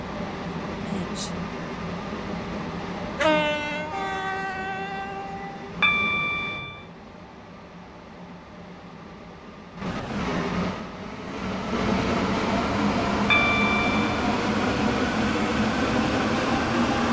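A Stepford Connect train rumbles along in a Roblox game, with chime tones, door sounds and a recorded voice announcement over the steady running noise.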